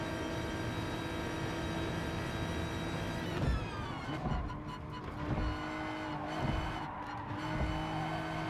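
In the GT Sport racing game, a steady engine drone plays, then a car loses control and skids, with a few tire squeals and scrubbing bursts over the continuing motor hum.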